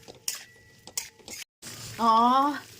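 Boiled potatoes with turmeric and salt fry in a pan: short clattering stirs and scrapes of a utensil, then a brief voice near the end.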